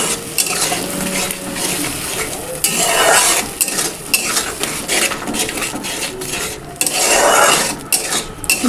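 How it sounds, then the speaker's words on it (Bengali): Spice masala with salt and turmeric is stir-fried in a pan for a raw banana and egg curry. It sizzles steadily and loudly, with repeated scraping strokes of a spatula against the pan and no talking. "এবার ভালো করে একটু কষিয়ে নেব।"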